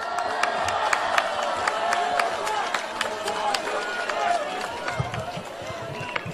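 A crowd at an outdoor political party rally in Korea applauds and cheers, with dense clapping and shouting that continues steadily throughout at close range.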